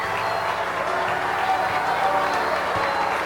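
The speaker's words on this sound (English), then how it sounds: "Another round of applause for our kindergarten singers." An audience applauds kindergarten singers at an elementary school Christmas concert, steady clapping with crowd murmur filling the hall throughout.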